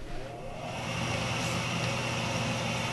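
A gas boiler fires up during an inspection, giving a steady rushing roar as its burner and exhaust start, fairly faint and even throughout, with no talking.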